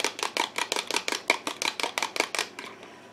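A spoon or utensil mixes sausage cup filling seasoned with pepper in a bowl. It makes a steady, even run of scraping strokes, close and fairly loud, and stops just before the end with no talk.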